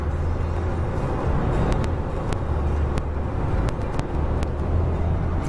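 Toyota car coasting downhill on a road, a steady loud low rumble of engine and tire noise filling the cabin with no talk.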